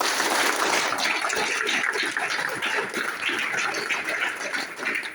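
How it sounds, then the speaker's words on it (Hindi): A seminar audience breaks into loud, dense applause that fills the whole stretch without pause. "एक बार ऊपर वाले के लिए एक बार जोरदार तालियां हो जाए"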